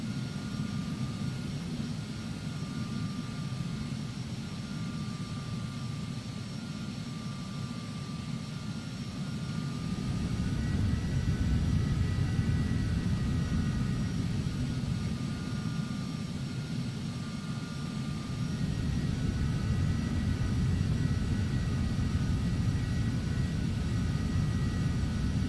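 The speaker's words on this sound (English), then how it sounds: "we need to take this aircraft out for a high power run" A simulated aircraft engine runs at high power in the Prepar3D flight simulator, making a steady, droning roar that swells louder about halfway through and holds to the end.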